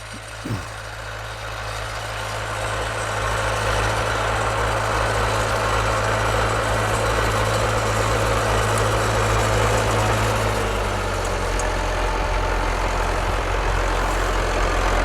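A steady tractor engine drones throughout, loud and close, its pitch shifting slightly near the end as it keeps running and turns in the Cotswolds countryside.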